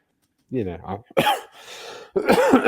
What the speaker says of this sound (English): It's really stealing my thunder here. I've not coughed once during this show, and you're coughing away.